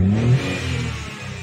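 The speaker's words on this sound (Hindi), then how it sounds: "हमने धक्का मारा और कार स्टार्ट हो गई है, और चेक इंजन लाइट वगैरह सब कुछ जा चुकी है" A Tata Tiago iCNG car engine, just push-started after a battery problem, revs up briefly and then settles into a steady running note close by, with no talk.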